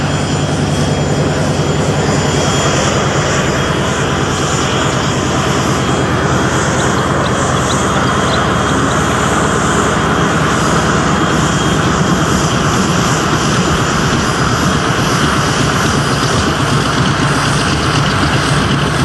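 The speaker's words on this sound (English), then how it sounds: "the CA-27 Sabre that's currently winding up on the cross runway where the other aircraft are parked" CA-27 Sabre jet engine winding up on the cross runway at an airshow, a loud, continuous roar with a steady high whine, heard alone and close for the whole stretch.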